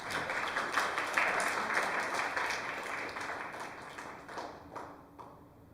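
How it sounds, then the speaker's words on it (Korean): Audience applause for a professor at a political lecture event, a sustained wash of clapping from a crowd that holds steady for several seconds, then gradually thins and fades toward the end. "박수 한번 쳐주세요"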